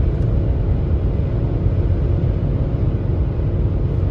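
A 2020 Mitsubishi Outlander engine with a broken CVT drones steadily, stuck at high revs, a constant low rumbling hum from inside the cabin with no variation across the stretch.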